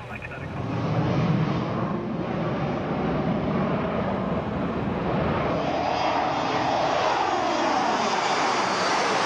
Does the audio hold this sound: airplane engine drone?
yes